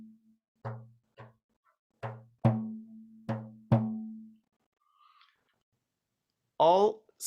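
A few soft, low frame-drum ghost-note taps, some in quick left-hand double strokes, ring out with a resonant hum in a quiet room, followed by a brief voice.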